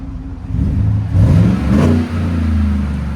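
A 2018 Chevy Tahoe with a 6.2L V8 and an 18-inch Magnaflow muffler revs up loudly nearby, the exhaust swelling in a couple of deep throttle blips before settling into a steady rumbling idle.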